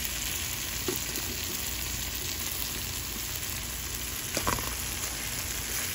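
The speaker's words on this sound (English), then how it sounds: "So we're going to fry it with the curry" Armored catfish (cascadoo/hassa) frying in curry, a dense continuous sizzle close up, with a couple of brief stirring clicks.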